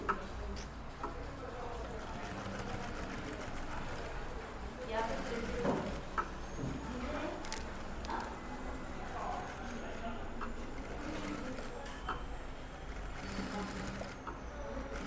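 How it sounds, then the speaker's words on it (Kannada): Sewing machine stitching along the edge of a blouse with lining, a soft steady mechanical ticking run, fairly faint, with a person speaking over it. "ನೋಡಿ ಈ ರೀತಿ ನೀಟಾಗಿ ಎಡ್ಜಿಗೆ ಸ್ಟಿಚ್ ಹಾಕ್ಕೊಳ್ಳಿ"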